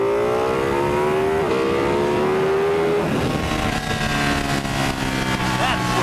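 A 2016 Ducati motorcycle, a Monster 1200 R or 1299 Panigale, pulls hard in second gear, its loud engine note climbing steadily in pitch before shifting, with the rider's voice over the roar.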